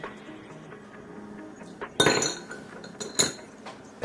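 Glass vape tank pieces, including the top, bottom and glass section, land in water with two sharp clinks about a second apart, set against a quiet room background with no voices.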